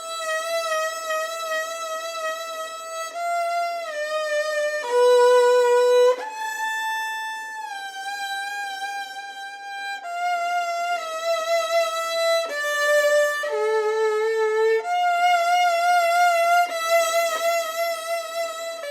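Sustained instrumental notes played with slow, wide vibrato during a vibrato lesson, a series of clear melodic pitches gently wavering up and down, heard alone and moderately loud, with stepwise note changes.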